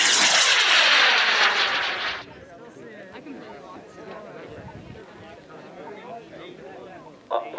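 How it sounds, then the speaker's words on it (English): An H125-powered model rocket launches with a loud, close roaring burst of motor thrust for about two seconds, cutting off into quieter outdoor ambience with people talking. "So we're going to launch the Bomb Pop in 5, 4, 3, 2, 1, ignition."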